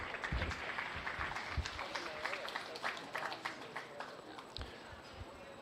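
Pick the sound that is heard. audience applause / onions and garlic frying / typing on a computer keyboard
audience applause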